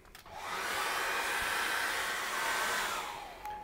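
A hair dryer blows steadily on wet acrylic paint, a loud continuous whirring rush that starts after a brief pause and runs for about three seconds before cutting off, with no voices.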